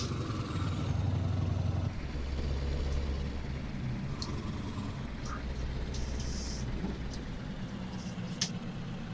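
Straight-pipe truck exhaust in Euro Truck Simulator 2, a steady low engine drone and rumble running throughout with brief higher hisses and clicks near the end, no talk.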